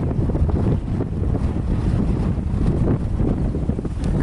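Strong wind during a wildfire in Cyprus roars and buffets the microphone in a continuous, loud, rumbling rush with no pauses.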